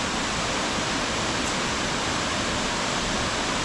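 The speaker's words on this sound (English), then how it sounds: "The falls are very noisy right now." Laurel Falls, a waterfall along the Appalachian Trail running with heavy flow, gives off a steady, loud, broadband roar of rushing water that holds constant throughout, with no voices over it.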